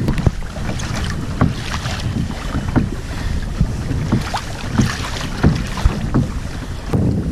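Pedal drive kayak moving through ocean swells in wind, with steady water rush and wind buffeting the microphone, plus periodic soft splashing knocks as the hull pushes along.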